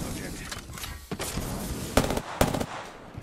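Bursts of automatic gunfire in Apex Legends crack out in quick, uneven volleys, with a few louder close shots standing out, while players talk over the shooting.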